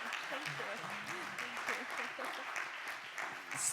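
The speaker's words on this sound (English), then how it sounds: "can I ask for a round of applause for Roxana, please?" Round of applause from a conference audience at an accessibility event, steady clapping from many hands at moderate distance with some murmuring voices mixed in throughout.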